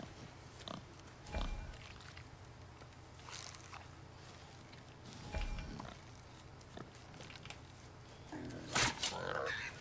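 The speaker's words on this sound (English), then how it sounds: "Wild boar's hide is thick." Wild boar grunting in the God of War video game, a few low snorts and grunts spread across a quiet scene, with faint rustling and a brief louder burst near the end.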